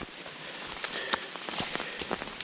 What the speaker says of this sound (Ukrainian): Дощ паде, не перестає, але ми не здаємося.